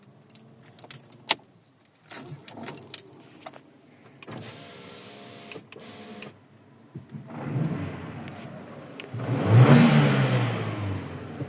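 Keys jangle and a power window whirs inside a car, then the engine cranks and catches after an air filter change, its idle swelling loudly and revving before settling, close and with no talk.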